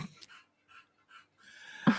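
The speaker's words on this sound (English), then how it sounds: "I heard dog panting." A dog pants in soft, quick breaths, a few faint puffs followed by a louder burst at the end, heard close and alone.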